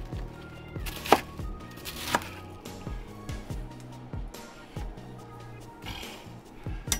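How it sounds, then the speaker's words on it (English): A knife chops food into square chunks on a cutting board, a run of soft, regular thuds with a few louder knocks, close and fairly quiet, with no talking. "And we're just going to cut it in square chunks here."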